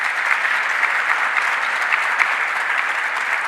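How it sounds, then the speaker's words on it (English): An audience at a governor's public event in Rochester gives a steady round of applause, dense clapping filling the room without pause for a few seconds. "Let's give him another round of applause."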